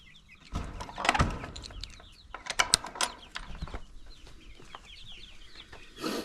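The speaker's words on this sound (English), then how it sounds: "I guess they're not the brightest chickens" Several chickens cluck and chirp in short, irregular bursts, with a few louder squawks near the start and a brief rustle at the end.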